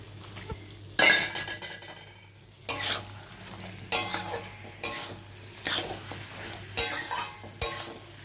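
Liver and potatoes being stir-fried with stock in a pan, with a soft simmering sizzle underneath and a repeated scrape and clink of a metal spatula against the pan in uneven bursts.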